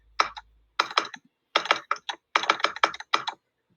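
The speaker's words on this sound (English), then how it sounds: "Now, if you and I were in a telegraph office, it would sound something like this." Crisp, close clicking bursts tapped in short irregular groups with pauses between, like a telegraph key sending Morse code.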